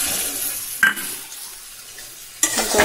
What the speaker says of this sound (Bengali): দিয়ে এবার ভালো করে কষিয়ে নিচ্ছি